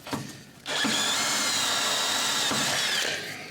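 A power drill upsizes bolt holes during a transmission install for an LS engine swap, spinning up after a brief start and holding a steady, loud, close whine for about three seconds before winding down.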